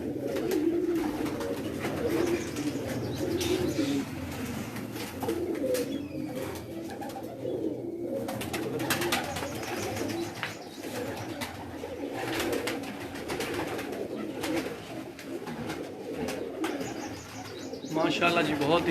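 Pigeons coo in low, repeated throaty phrases from a rooftop loft in Mochh, Mianwali, a steady chorus close by with someone talking over them and occasional chirps and rustles.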